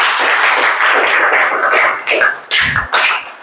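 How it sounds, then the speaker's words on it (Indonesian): A class claps loudly and rapidly for a few seconds during a teaching session, the applause thinning out toward the end with a short low thump. "Tepuk tangan dulu."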